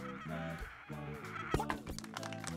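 Cartoonish bird squawks from Angry Birds characters inside the golf video game What the Golf, a few harsh honking cries in quick succession over game music, fairly close and loud.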